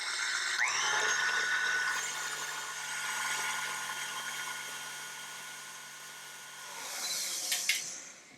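Electric mixer whisking egg whites and sugar for a chiffon cake meringue, a steady whirring motor hum that fades slightly mid-run, then rises and ends in rattling bursts as the beaters knock the bowl.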